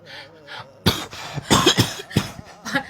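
A quiet breathy sound, then a burst of several harsh, close coughs in an uneven rhythm, loud and alone without talk.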